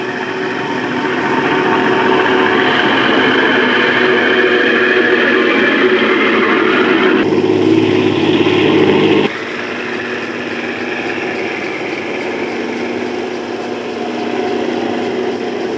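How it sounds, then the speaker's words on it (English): A loaded 125 horsepower Foden 6x4 dumper truck drives through colliery trial ground, its engine a loud, steady close drone that shifts in pitch and drops slightly in level partway through, with no voices. "This is the 125 horsepower 6x4 Foden, well loaded."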